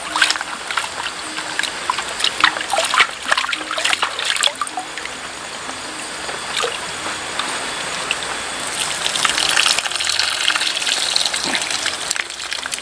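Vegetables are washed under clear running mountain water, a steady splashing trickle with a surging gush that lasts the whole stretch, close by and with no speech.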